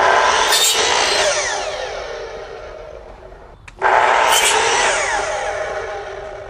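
A small power tool sands a plastic piece in two loud, close bursts, each a high whirring grind that slowly fades, separated by a short pause.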